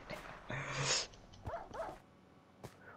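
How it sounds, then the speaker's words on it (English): Minecraft dogs whimpering and yipping in the video game, a few short whiny calls and one sharp bark standing out over quiet game background. "My dogs are gonna teleport to me."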